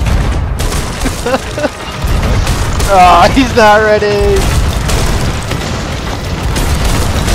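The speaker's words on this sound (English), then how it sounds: "we can all just drill them with cannons right now in 3 seconds" Cannon fire in a video game, with booming blasts and bursts rumbling under excited voices and shouting, including a tonal whine in the middle of the stretch.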